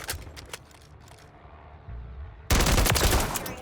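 Rapid gunfire from a weapon in the video game MW3, a sudden loud burst of shots that comes in late and stays dense, after quieter scattered game sounds.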